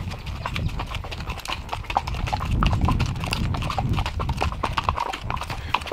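Horse hooves clip-clopping steadily along a dirt road through hill country, a continuous close rhythm of hoof strikes lasting throughout, with occasional faint snorting and no talk.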